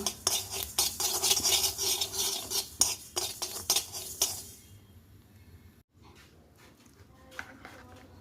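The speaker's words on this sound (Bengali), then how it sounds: "কালো জিরেটা একটু কড়াইতে গরম করে নিচ্ছি" Black cumin seeds heated dry and stirred in a wok, with a spatula scraping and clinking rapidly against the metal for several seconds before the stirring fades to near quiet.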